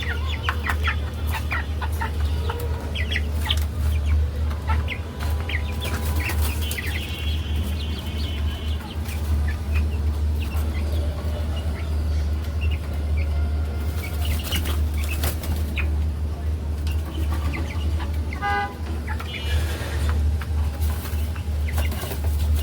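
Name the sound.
chickens clucking and flapping, let out of cage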